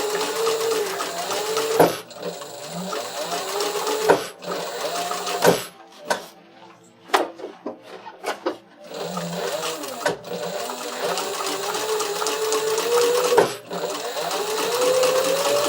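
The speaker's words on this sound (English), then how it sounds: "one of the best sewing shots I think we've ever gotten" A sewing machine stitches a backpack in steady, loud, whirring runs, broken by several brief pauses and clicks before the motor resumes.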